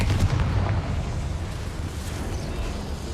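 A Confringo spell cast in Hogwarts Legacy lands as a dull, rumbling explosion, a loud burst at the start that fades into a rolling low roar.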